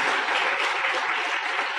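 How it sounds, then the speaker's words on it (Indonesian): A crowd claps in a dense, steady burst of applause, loud and even for a couple of seconds. "Tepuk tangan buat Anda semua ya."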